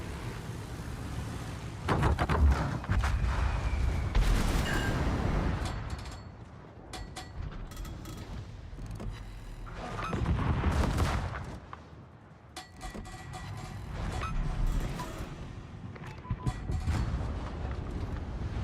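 Warship guns boom in the World of Warships video game, with heavy rolling salvos and crackling bursts that rise and fade in waves over a rumbling background.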